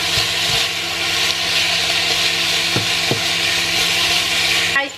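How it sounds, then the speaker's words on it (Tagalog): Steady, loud whirring of an electric fan running close behind someone cooking meat in a home kitchen, a constant broadband rush with no talk. "binuksan ko yung electric fan kasi hindi ko mabuksan itong exhaust fan dahil sobrang malapit ako at maingay"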